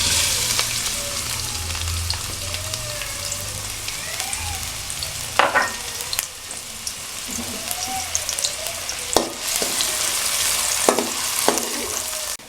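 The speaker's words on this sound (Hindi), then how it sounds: "इसके बाद इसमें प्याज डालते हैं।" Onions frying in oil in a pan for chicken tikka donuts, a steady close sizzle with a few louder stirring scrapes and clatters of a spoon, no talking.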